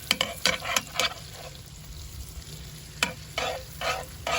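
Wagyu steak sizzles on a Big Green Egg as it is basted, with a steady frying hiss broken by bursts of spoon scrapes and splattering.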